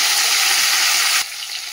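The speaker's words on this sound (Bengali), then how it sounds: "আমি তেলের মধ্যে সিমটা ভাজা বসিয়ে দিচ্ছি" Flat beans fry in hot oil with a loud, continuous sizzle that suddenly drops to a quieter crackle near the end.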